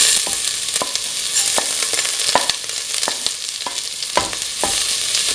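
Fenugreek seeds sizzle hard in hot oil in a pan, a loud continuous frying hiss with a regular series of sharp stirring scrapes and taps, no voices.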